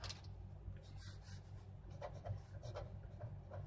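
Hand-writing a program on paper or a board produces soft, scratchy strokes that come in intermittent short bursts, close but faint over a low room hum.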